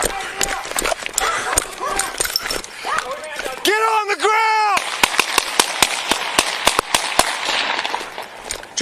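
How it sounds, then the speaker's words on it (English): Gunshots ring out during a police shooting, a rapid string of sharp, loud cracks fired in quick succession amid tense shouting voices. "shots fired."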